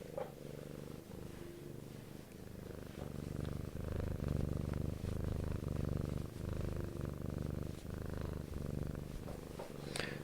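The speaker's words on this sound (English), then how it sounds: "Cat's rubbing her cheek on the microphone." A cat purrs loudly and steadily right up against a microphone as she rubs her cheek on it, giving a close, rumbling drone broken by soft brushing and bumping noises, with no talking.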